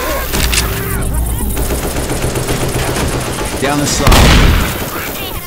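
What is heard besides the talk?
gunfire in video game Left 4 Dead 2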